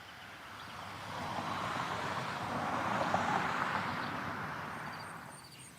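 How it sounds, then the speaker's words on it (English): Simulated city traffic in X-Plane 12, a broad low rumble of cars that swells gradually toward the middle, then eases off, with no voices. "the cars rumbling through the city"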